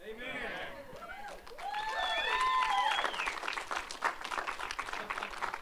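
A church congregation breaks into applause during a Sunday service, the clapping swelling and spreading to fill the room after a few vocal shouts, with voices continuing beneath it.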